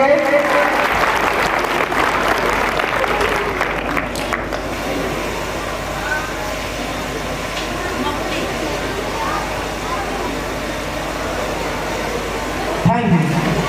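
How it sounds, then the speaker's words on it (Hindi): An audience at a school Foundation Day and Grandparents Day celebration claps loudly and steadily for the grandparents, a dense sustained wash of applause in a hall, with some crowd voices mixed in. "एक बार जोरदार तालियां हो जाए दादा दादी जी के लिए।"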